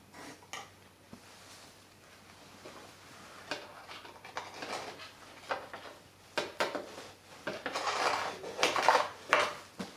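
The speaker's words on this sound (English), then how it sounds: "Get it in there and lay it out flat with the spoon" A metal spoon scrapes and taps in loose sand ballast on a model railway layout near a tunnel portal, producing small gritty scratches and clinks that grow busier and louder toward the end, close by with no talk.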